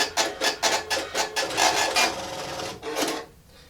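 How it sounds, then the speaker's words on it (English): An Epson TM-U220 impact receipt printer prints an order, giving a rapid series of about nine raspy mechanical bursts in a steady rhythm, close and clear, ending with a longer grinding stretch. "It basically can print off multiple orders, and then it leaves a little bit of a stub on it that you just kind of pull off."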